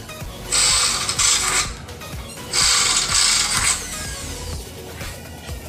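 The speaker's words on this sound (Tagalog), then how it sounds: "Lalakihan natin, gagawin natin ang butas na 316 para medyo maluwag yung screw natin may laro." A power drill enlarges a hole to 3/16 inch in an aluminum screen door frame, whining in two steady bursts of about a second each, separated by brief pauses, up close with no talking.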